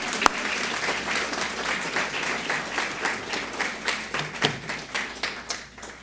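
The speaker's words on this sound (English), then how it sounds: "Let's give these veterans and godfathers of teen health education a big round of applause." An audience at a teen pregnancy prevention awards and teen health educator graduation claps steadily for honoured veteran educators, moderately loud with scattered individual claps standing out.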